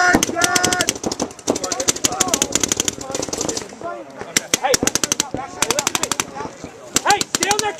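Paintball markers fire in rapid bursts during team practice, quick repeated popping volleys from several guns near and far, with players shouting over the shots.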